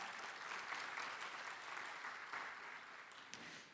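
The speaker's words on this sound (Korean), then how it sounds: "여러분 모든 분들께 다시 한번 큰 박수 보내주시기 바랍니다." Audience applause at the opening ceremony of the 2021 Korea Innovation Fair, a dense, steady clapping that continues throughout at moderate distance.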